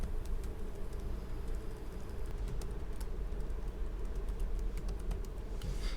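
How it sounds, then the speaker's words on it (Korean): Laptop keyboard keys being pressed, a run of light clicks and taps close up over a steady low background hum, continuing for several seconds without talk. "이렇게 키보드를 눌렀을 때 느낌 있잖아요."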